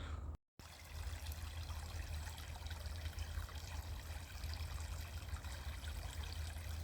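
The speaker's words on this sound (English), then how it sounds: "waterfall, so soothing." A small waterfall trickles and splashes steadily, a constant watery wash with a low rumble underneath and no voices, after a brief cut at the start.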